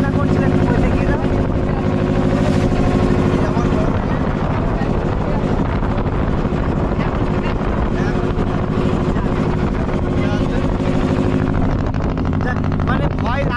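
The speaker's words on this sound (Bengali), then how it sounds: "যে পরিমাণে ঢেউ উঠছিল আর যেভাবে নৌকা তুলছিল" A boat on rough water during a Sundarbans river journey, with a steady, loud engine drone and gusting wind buffeting the microphone throughout.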